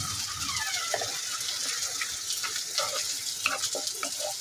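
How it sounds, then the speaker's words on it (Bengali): Onion and ginger paste fries in hot oil in a pan for a prawn and young jackfruit curry, giving a steady close sizzle broken by small clinks and scrapes of stirring, with no voices. "পেঁয়াজটা ভালোভাবে ভেজে নিব, তেলের উপরে আনবো"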